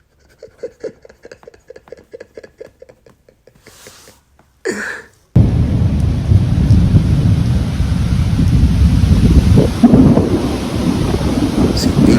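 A loud thunderstorm breaks in with a sharp lightning crack and a thunder rumble, then heavy rain pours on steadily and close. Quieter rhythmic knocking and a few short noises come before it.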